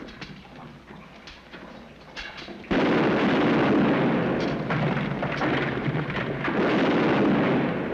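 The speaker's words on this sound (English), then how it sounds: "That gunfire came from straight ahead." Distant gunfire and booming blasts, faint at first and then a sudden loud, sustained roar of shots and explosions.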